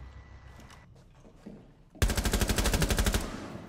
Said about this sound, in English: We like walked in front of each other's shots.